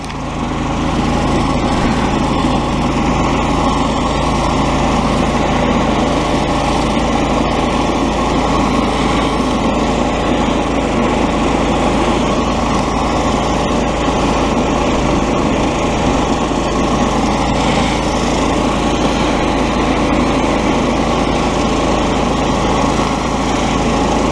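A gas-engine pressure washer drones loud and steady, close by and without pause, while it blasts dirty concrete that has never been cleaned since it was installed. No voices are heard.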